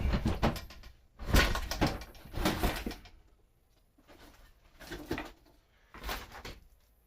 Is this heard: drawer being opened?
yes